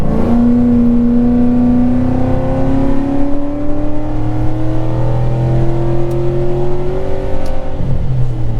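A 2003 Mercury Marauder accelerates hard from inside the cabin, its V8 pitch climbing steadily through one long pull and then a gear change, loud and continuous with no talking.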